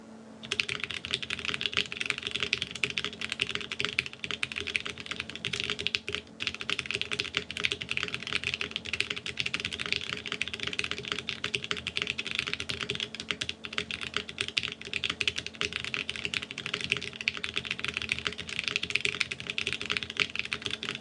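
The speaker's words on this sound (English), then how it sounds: "Let's do one more typing test." Fast, continuous typing on a KBDFans Epoch 80 TKL mechanical keyboard styled after a Dolch Pac, a dense stream of crisp close keystrokes clattering steadily for about twenty seconds with no talking.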